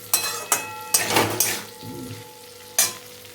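Kakrol curry with spice paste is stirred in a pan: a few sharp scraping clanks of a utensil against the pan, a short burst of sizzling, then quiet simmering before one last clank.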